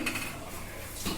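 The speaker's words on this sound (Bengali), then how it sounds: "বন্ধুরা, আমি কিন্তু তাওয়া বসিয়ে দিয়েছি।" A tawa pan is set down on a gas stove, giving a couple of faint metallic clinks and a light scrape, brief and quiet, with no voices.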